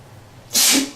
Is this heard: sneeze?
yes